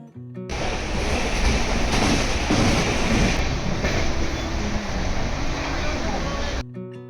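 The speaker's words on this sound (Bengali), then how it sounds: "ট্রেনটা ছেড়েও দিল" A steady, loud rumbling roar of a train running along the tracks, continuous and close, with no distinct voices.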